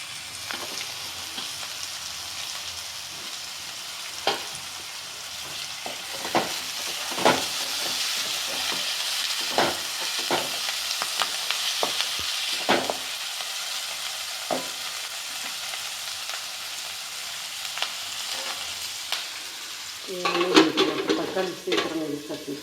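Onion, tomato and curry leaves stir-fry in a pan, a steady close sizzle with repeated scraping and clinking of a spatula, denser stirring clatter near the end and a faint voice now and then.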